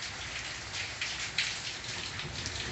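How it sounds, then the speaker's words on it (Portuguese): Heavy rain pours steadily in Serra Talhada in the Pernambuco backcountry, a dense continuous hiss of drops hitting surfaces close by, with no voices. "A segunda chuva aqui em Serra Talhada, sertão de Pernambuco."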